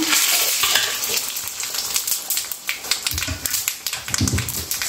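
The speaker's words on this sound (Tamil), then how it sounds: "இப்போ நம்ம தாளிப்பு போட்டுடுறேன்" Vadagam tempering in hot oil fills the space with a loud, continuous sizzle and crackle, broken by quick stirring taps against the pan near the end.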